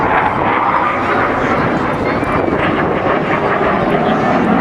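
A Saab J 35 Draken jet fighter at a beach air show in Ayr, Scotland produces a loud, continuous roaring engine wash that stays strong and steady throughout.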